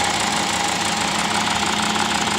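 Car engine with a 2.5-litre five-cylinder, idling steadily with a check engine light on, a dense continuous rumble and hum that stays loud and even throughout, with no voices.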